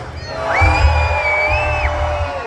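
A large outdoor rock concert crowd in a city plaza roars and shouts, a dense sustained cheer with a loud whistle or whoop rising above it, close and continuous for the whole stretch.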